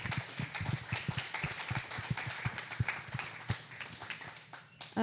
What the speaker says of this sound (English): Round of applause for Bam Bam's.